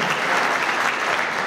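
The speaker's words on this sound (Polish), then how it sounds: "Gorące brawa jeszcze raz." Warm applause from an audience at a football club's team presentation for Stal Stalowa Wola, a brief, dense burst of clapping at steady loudness.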